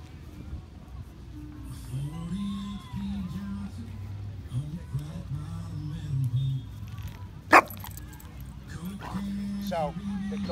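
A male German Pointer and a female Dogo Argentino make short yips, whimpers and an occasional sharp bark, heard under steady human talk throughout.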